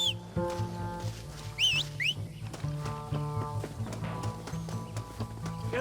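Horse hooves clip-clop at a steady trot in the Red Dead Redemption video game, mixed with musical tones, a couple of bird-like whistles and ambient game sound, fairly close and moderately loud.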